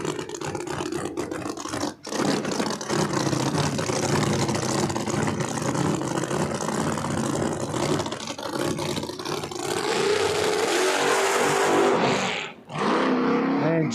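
A no prep drag race car makes a solo bye run at New England Dragway, its engine roaring steadily from a distance with a brief dropout, then revving again toward the end, loud and broadband.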